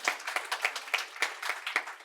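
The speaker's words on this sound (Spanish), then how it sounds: "Aplauso." Audience applause at a Spanish-language mental health talk event welcoming an addiction therapist and author, heard as a brief burst of scattered claps with distinct individual hand strikes, moderately quiet and without speech.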